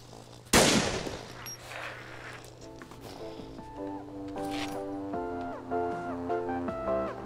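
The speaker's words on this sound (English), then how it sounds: "That'd just be a warning shot right there" A single loud, sharp gunshot from the zombie survival game DayZ, an Arma 2 mod, fired as a warning shot, cracking once and then decaying while a melodic music track plays in the background.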